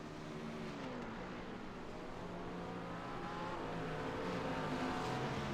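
GT3 race cars, Audi, BMW, Mercedes and others, race at VIR in a racing video game, engines droning and rising in pitch as they accelerate, a steady faint roar with no talk.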